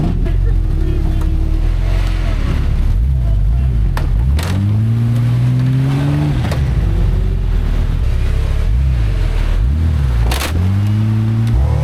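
A loud, overheating WJ Jeep Grand Cherokee engine revs up and down repeatedly during durability testing, pitch sweeping up and falling back in several surges, close and continuous with rumbling noise.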